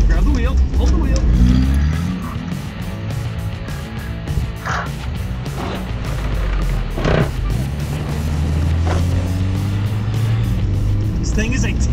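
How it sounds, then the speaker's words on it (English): Car engine revving hard at high RPM in second gear on a vehicle fitted with ATV tires, a loud continuous drone with rising and falling pitch, close by, while people talk over it. "Second gear, lots of RPM, all the RPMs."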